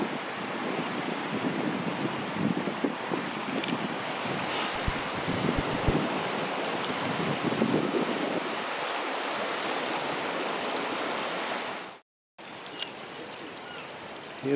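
Swollen river water flowing across flooded fields in February, a broad, steady rushing wash heard outdoors with gusty wind noise, continuing unbroken except for a brief dropout near the end.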